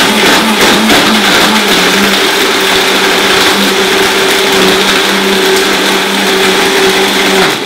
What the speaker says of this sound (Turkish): Tamam, blender yürümeye başladı.